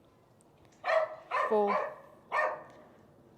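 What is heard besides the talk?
dog barking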